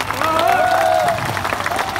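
Crowd at a 2019 Palghar Lok Sabha election rally clapping in a steady, dense wash of applause that holds for about a second and a half, then thins toward the end. Faint voices and a tonal whine sit within it.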